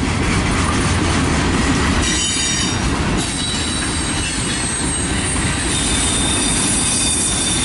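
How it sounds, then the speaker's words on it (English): A long Union Pacific freight train of autoracks and boxcars, led by locomotive 6301, rolls steadily past close by in Battle Creek, Michigan, wheels clattering and screeching on the rails, with loud continuous rumble throughout. "See, this is the next Autorack train."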